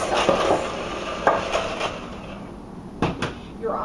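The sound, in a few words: mixing lemon cookie dough in a bowl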